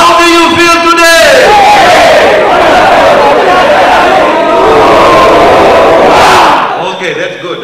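A conference audience at a mutual fund round table roars a loud rallying cry together, a big sustained group shout that swells and then dies away, after a lone voice briefly leads it.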